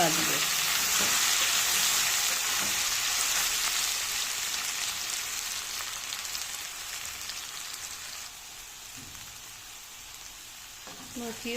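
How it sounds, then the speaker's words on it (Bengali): Taro corms (kochu mukhi) frying on high heat in oil, a dense, continuous crackling sizzle like rain on a surface, loud at first and slowly easing, with occasional stirring clinks. "মুখিকে আমি একটু ভেজে নেব একটু হাই হিটে"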